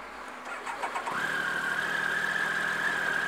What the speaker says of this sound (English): See what happens when I start it back up again.